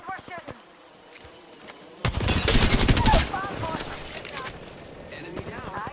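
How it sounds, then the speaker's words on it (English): Loud burst of automatic gunfire in the Apex Legends battle royale game, a rapid stream of shots lasting about a second after scattered single cracks, with in-game voice lines and effects around it. "And we're shooting."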